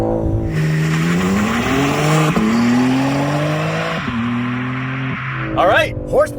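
A 2025 BMW M3 Competition Touring with a twin-turbo 3-liter inline six launching hard under launch control, its loud engine climbing through rising pitch sweeps broken by gear shifts, with an excited voice near the end.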